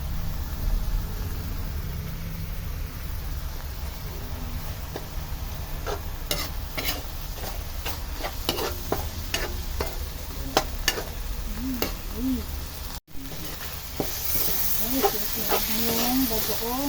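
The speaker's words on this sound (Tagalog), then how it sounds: "nagigisa na ako ng gulay" Vegetables for pinakbet sautéing in a pan, a steady low sizzle with scattered stirring clicks and scrapes building in the second half, close and moderately loud, with a brief dropout near the end.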